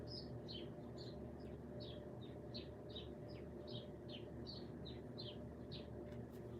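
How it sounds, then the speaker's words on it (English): Several birds chirp in short repeated bursts over a steady low rumble, the calls bright and fairly distant, continuing throughout. "Them birds sound so beautiful."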